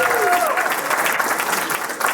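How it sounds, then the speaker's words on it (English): A live comedy show audience claps in a dense, sustained round of applause that fills the whole stretch, with a brief voice or whistle near the start and crowd noise underneath. "So let's just do a quick round of applause for everybody."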